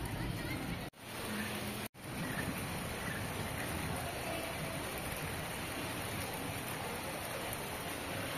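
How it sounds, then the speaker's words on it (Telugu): Steady rain falling over a village with many trees during a summer shower, a dense continuous hiss that stays loud throughout with two brief dropouts near the start. "వర్షం పెద్దదవుతుంది"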